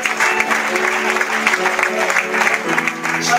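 A Spanish-speaking church congregation applauds the King with sustained clapping mixed with cheering voices and a faint musical tone underneath, loud and continuous throughout.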